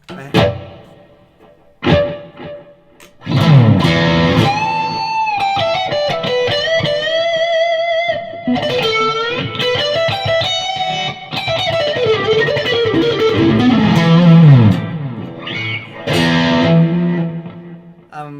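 An electric guitar on the neck pickup through a Wampler Andy Wood Signature overdrive pedal, with overdriven, distorted tone, plays a melodic solo line with bends and sustained notes, loud and up close, after a few brief picked notes.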